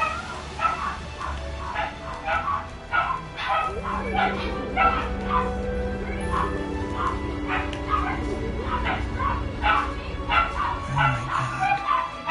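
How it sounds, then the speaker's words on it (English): Several dogs bark and yip repeatedly in a video game scene, the rapid barks and whimpers running steadily throughout over soft game music and ambient tones. "the dogs are barking"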